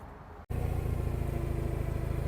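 The 21-horsepower Kubota L1 215 Japanese long-wheelbase mini tractor's engine starts and runs during unloading, a steady close diesel chug after a brief break, with no talk.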